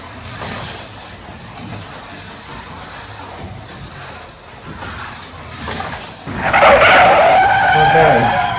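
Scalextric Tyrell slot car running on a track with noisy front wheels, a steady whirring rattle throughout that surges louder and brighter near the end, with a voice talking over it.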